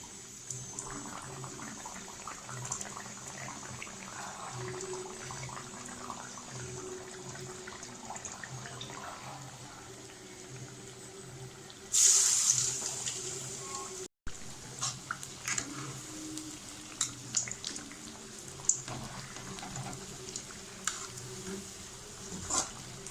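Banana fritters (pazham pori) deep-frying in hot oil, a steady soft crackling fizz throughout, with a brief louder burst of sizzle as more battered pieces drop into the oil, no talking.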